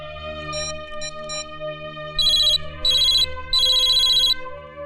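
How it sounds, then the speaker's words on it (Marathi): A telephone rings in a Marathi film scene, three loud electronic trilling bursts in a row over a steady background music drone. "कुणाचा रे दादाचा फोन"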